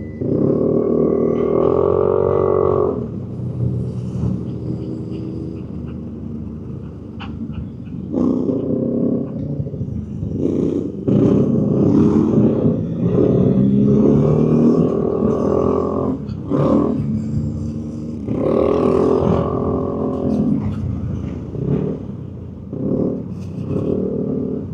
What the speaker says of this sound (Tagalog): eto naka Royal Enfield yung motor